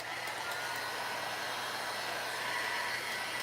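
Heat gun blowing hot air to dry a paint glaze coat, a loud steady broadband whoosh held evenly for a few seconds, close and without talk.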